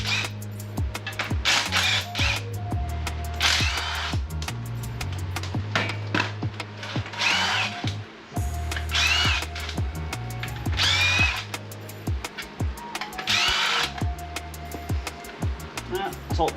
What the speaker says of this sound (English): Bolts out the sump now.